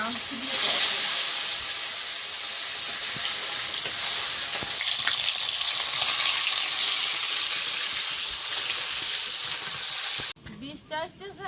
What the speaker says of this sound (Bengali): শোল মাছগুলো একটু ভেজে নিই